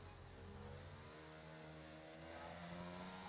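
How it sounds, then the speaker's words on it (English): F1 car in a sim racing game, recorded at the Chinese Grand Prix circuit, with its engine note dropping under braking: a steady harmonic whine stepping down through downshifts, continuous and fairly loud. "See the engine braking off inorganic here"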